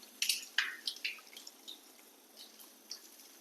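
Water from a sensor tap at a mosque in Dubai splashes in short bursts, a few quick splashes close by, then softer, scattered drips as it shuts off.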